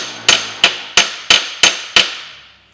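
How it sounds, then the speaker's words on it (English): Six sharp, evenly spaced metallic hammer taps ring out up close as a differential flange oil seal is driven into place on a Ford Mondeo Mk5, each with a short bright decay. "you can hear the change of note with the hammer"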